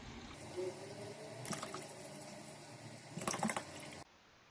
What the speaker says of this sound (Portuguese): A gente tira a tampa do reservatório e simplesmente enche com uma garrafa de água até ele estar totalmente cheio.